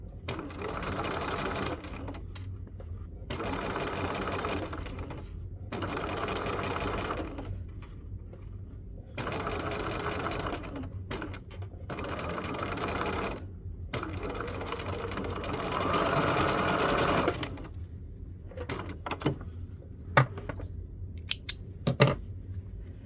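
Sewing machine stitching a facing, running in several bursts of steady whirring separated by short pauses, close and clear, with a few small clicks and handling noises near the end.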